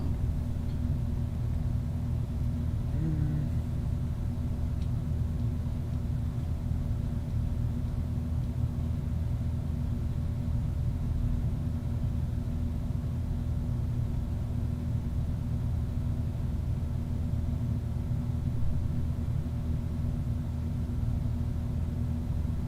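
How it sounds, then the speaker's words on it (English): Loud air conditioner running in a room, a steady unbroken whoosh of broadband noise with a low hum and a faint tonal whine, constant throughout with no pauses. "Sorry about the freaking AC. It's pretty loud."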